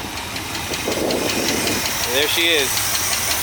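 A 1966 Ford Mustang convertible, mid-restoration, idles with an open exhaust (muffler lacking ends), a steady engine rumble running under a man's speech throughout.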